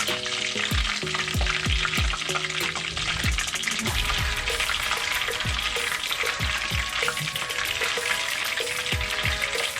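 Battered shrimp tempura frying in a pan of hot oil, a loud, dense, steady crackling sizzle running throughout with repeated bubbling pops and no voices.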